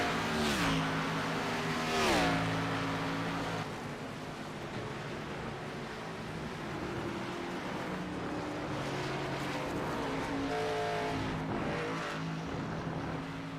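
Race car engines in a sim racing game at Watkins Glen, harmonic whine rising and falling through gear changes and revs, loud and continuous with several cars close by, no voices.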